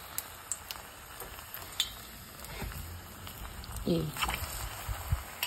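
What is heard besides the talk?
plantain pieces frying in hot oil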